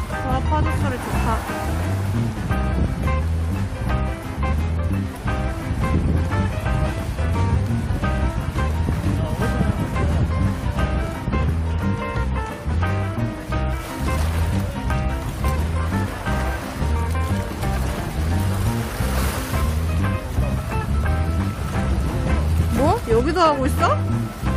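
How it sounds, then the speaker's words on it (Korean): Sea waves washing against a breakwater and rocks at a fishing spot in Yeosu, a steady surf wash running throughout under frequent nearby talk from adults and children. "와 파도 소리 좋다."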